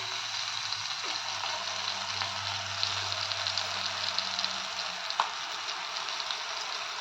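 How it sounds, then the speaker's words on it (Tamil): A ground paste of mint, ginger, garlic and coconut sizzles in a hot pan for mint rice. The frying hiss is steady and close, with a faint low hum and no talking. "அரைச்ச பேஸ்ட்டை நம்ம ஊற்றிக்கலாம்."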